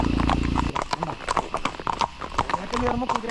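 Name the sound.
horse hooves clip-clopping during a plantation horseback ride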